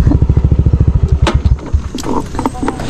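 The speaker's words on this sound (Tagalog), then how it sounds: "Ito na tambutso ko." Close, loud idle from a Yamaha Aerox 155 v2 scooter exhaust, a rapid even chugging pulse that loosens into rougher, uneven rumbling partway through, with light clatter and brief sounds over it.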